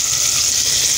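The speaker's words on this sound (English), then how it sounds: "To fry a little bit" Fresh tomatoes frying in a pan, giving a continuous loud bright sizzle that holds steady for about a second with no voices.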